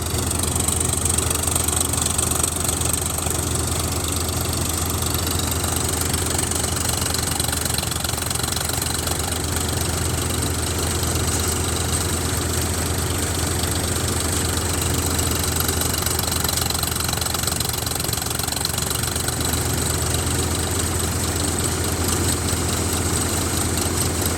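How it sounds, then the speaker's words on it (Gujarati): A 50 HP Indofarm 3048 DI tractor engine idling, a steady loud close diesel rumble with a regular knocking beat that continues unbroken, with no talking. "તમે પહેલાં ફાયરિંગ સાંભળો ટ્રેક્ટરનું"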